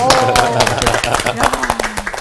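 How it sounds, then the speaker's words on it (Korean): A church Bible-study audience clapping after a sermon on the Gospel of Mark, with sharp, uneven hand claps mixed with voices and laughter over about two seconds, loud and close. "박수 한번 합시다"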